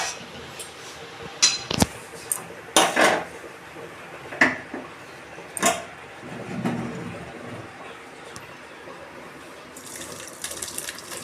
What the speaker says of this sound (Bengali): আমি এবার ঢেলে ফেলছি।